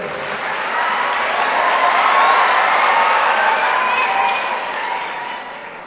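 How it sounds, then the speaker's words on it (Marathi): An audience applauds at a birthday felicitation gathering with kirtan, a steady, dense wash of clapping that swells gradually, holds for several seconds, then eases slightly. "ते पोरं टाळ्या वाजवा सर्वांनी."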